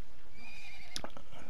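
A horse neighs in the Metal Age stage of the Dawn of Man video game, a brief clear whinny near the middle followed by a few soft clip-clop hoof sounds over faint ambient game background.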